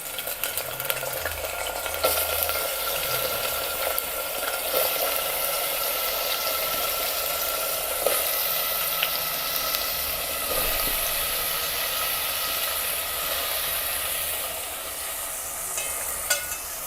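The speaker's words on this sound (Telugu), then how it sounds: "వేడెక్కిన తర్వాత మనం తరిగి పెట్టుకుని అరటికాయ ముక్కలు వేయాలి ఇందులో" Raw banana pieces frying in hot oil in a brass pot, a dense continuous sizzle heard up close, with occasional stirring scrapes and no voices.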